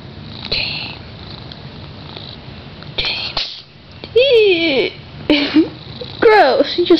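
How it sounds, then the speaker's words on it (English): A pet cat named Kiki sneezes several times in close succession, short sharp bursts right at the microphone, while a person talks and reacts between them. "Gross, you just sneezed on me."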